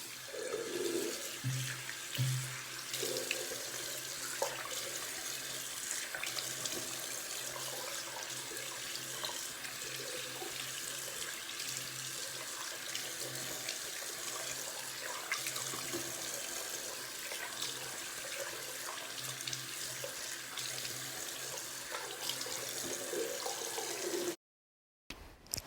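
Tap water running steadily into a bathroom sink during face washing, with splashing and hands moving through the stream, continuous until a brief cut-off near the end.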